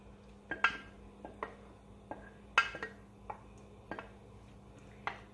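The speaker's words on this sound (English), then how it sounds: "I'm going to just slowly stir it so that it's getting mixed in there." Spoon stirring champurrado, a corn and chocolate drink, in a pot: quiet, irregular clinks and taps of metal, about a dozen over several seconds, some sharper than others.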